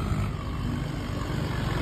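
A tractor engine's low, steady rumble drones continuously nearby, heavy and throbbing with no pauses.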